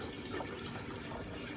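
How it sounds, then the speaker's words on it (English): Cold tap water runs steadily into a cylindrical glass vase, a continuous close splashing fill with no talking. "Next we're going to do is fill our cylinder with cold water,"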